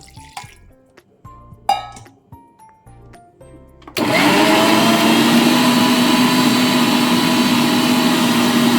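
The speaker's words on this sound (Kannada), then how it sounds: "ಈಗ ಸ್ವಲ್ಪ ನೀರು ಹಾಕಿ ಗ್ರೈಂಡ್ ಮಾಡುವ" A few quiet kitchen clinks and taps, then a mixer grinder switches on and grinds loudly and steadily with a watery churning roar until the end.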